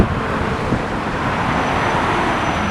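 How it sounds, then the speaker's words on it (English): Steady outdoor road traffic in Tampa, Florida, a continuous broadband roar of passing cars with wind buffeting mixed in, no talk. "if the wind noise and traffic noise is bad, forgive us"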